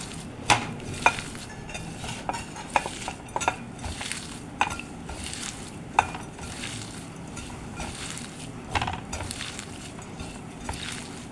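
Vermicelli pakora batter being mixed by hand in a bowl, with irregular squelching and soft clinks of the bowl repeating steadily and close by, without any talk.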